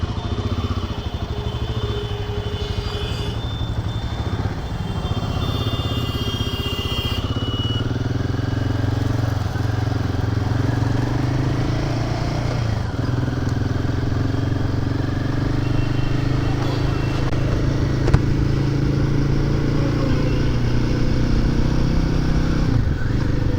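A Royal Enfield Himalayan 450 motorcycle pulling away in first gear, its steady engine drone loud and close throughout, with a faint rise in pitch and an occasional light clatter and no voices over it.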